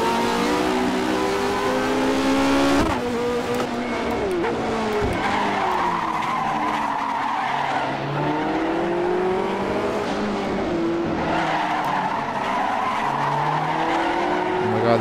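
Cold tires skidding and squealing on a classic Tyrrell race car in rFactor 2 at Silverstone, a loud, sustained screech with sweeping engine revs that rise and fall across the whole stretch as the car slides.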